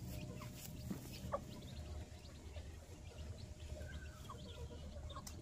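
Hens and a rooster clucking softly while pecking at the ground on a Filipino farmyard, scattered faint clucks over a steady low background hum, fairly distant.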